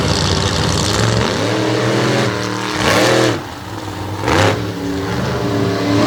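Drag racing cars launch off the starting line in a Renegade class semifinal at Abbottstown, PA. Loud engines roar and rev steadily, with two swelling surges around the middle and late in the run.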